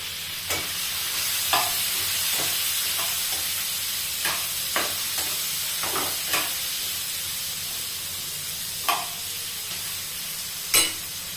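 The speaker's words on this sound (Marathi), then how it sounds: "चार ते पाच लसणाच्या पाकळ्या परतवून घ्यायचं आहे" Four or five garlic cloves and tomatoes sauté in a pan with green chillies, making a soft continuous sizzle broken by a dozen or so sharp stirring clicks and pops, with no voices.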